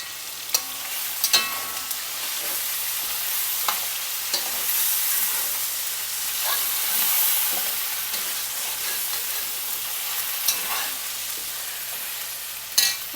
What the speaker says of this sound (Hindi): अब इसमें मैं 1 जो है टेबल स्पून लहसुन अदरक की पेस्ट डाल रही हूँ।